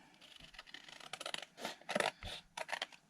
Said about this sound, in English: So I will just trim this a bit.